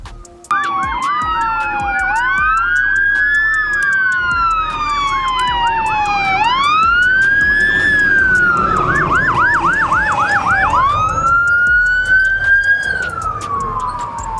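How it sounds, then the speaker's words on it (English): Loud wailing sirens sweep up and down continuously, with a fast yelp pattern in the middle, as Virginia Beach fire and emergency vehicles pass close by over road noise. "there's some emergency vehicles rolling up over here"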